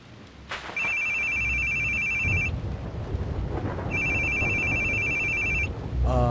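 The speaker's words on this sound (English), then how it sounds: "Your phone's ringing." Phone ringing in The Boogie Man video game: two long electronic ringtone bursts separated by a pause, loud and close over a rumbling background resembling wind or thunder.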